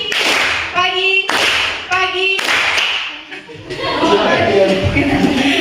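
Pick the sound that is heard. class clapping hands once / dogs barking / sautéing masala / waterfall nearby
class clapping hands once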